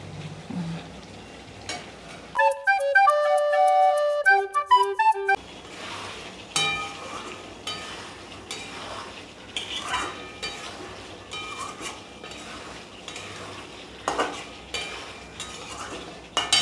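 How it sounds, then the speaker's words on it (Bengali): Vegetarian potato curry (aloo dum) sizzles in a pan while a spoon scrapes and stirs in repeated strokes, with a brief burst of music partway through. "ভালো করে দেখে এবার নেড়ে দিচ্ছি একটু"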